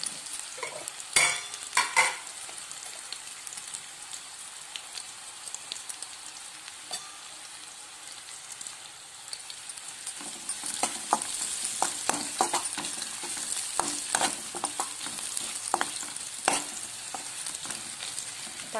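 Ingredients for egg rice fry in a pan with a soft ongoing sizzle, punctuated by sharp spatula clinks and scrapes against the metal; the stirring grows busier and more frequent in the second half.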